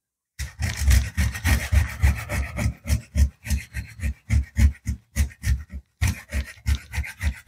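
Coconut scraped on a small hand grater gives a quick, even series of rasping strokes, about twenty of them close up, with one brief pause.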